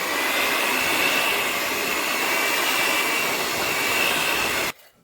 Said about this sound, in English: Now I'm just going to add the 2 teaspoons of vanilla and blend this all in good to our